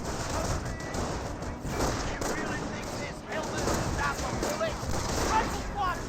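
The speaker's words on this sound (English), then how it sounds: "Sniper does find a shot there." Sniper rifle fire in the World War II strategy game Company of Heroes, heard amid a dense, continuous battle din of gunfire and explosions, with a voice speaking over the action.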